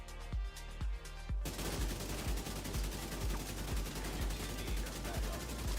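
Rapid automatic fire from a gun emptying a full magazine in The Division 2, loud, close and steady, after a brief lead-in of separate shots, with no voices.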